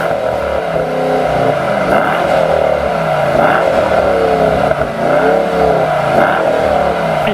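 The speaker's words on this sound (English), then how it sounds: "let's finish off this tour with the AMG wagon's exhaust note" Exhaust note from a 2018 Mercedes-AMG E63S wagon, a deep, steady, loud engine drone with rising and falling revs throughout, heard up close with no talking.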